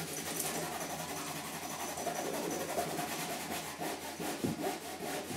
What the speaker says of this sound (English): What you do is you get the tips of your fingers, you just rub them like this. Rub them, rub them, rub them.